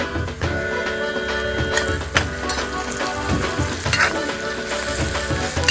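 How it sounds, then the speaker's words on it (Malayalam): Onions sautéing in a pan with curry leaves and turmeric powder, a continuous loud sizzle and crackle with occasional stirring clinks, close up and without speech. "നമ്മുടെ സവാള ഒന്ന് വഴണ്ട് വരാൻ വേണ്ടിയേ കുറച്ച് കറിവേപ്പിലയും കൂടി ഇടുവാ"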